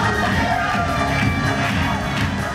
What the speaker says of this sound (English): After three fights, the crowd is even more pumped, and Alexis makes her way into the ring.